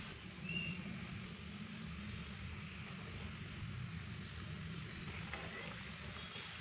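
Water boils hard in a pot for a hilsa fish curry, giving a continuous low bubbling rumble with a soft hiss that stays steady and fairly quiet throughout.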